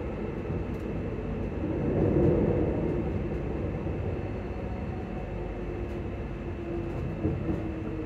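Passenger train arriving at Edinburgh Park station, a steady loud rumble of wheels and carriage noise that swells briefly then settles into a continuous low roar.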